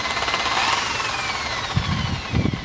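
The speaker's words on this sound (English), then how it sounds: "If now I can spin it with drill, now all the water" A drill spins a wet paint roller to fling off water, a loud steady whirring with a descending pitch, accompanied by rough splattering noise toward the end.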